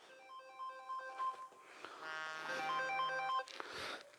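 A mobile phone ringtone plays a bright, melodic electronic tune for about four seconds in a lecture room during a Korean fortune-telling class at a family culture center. It is fairly loud against the quiet room.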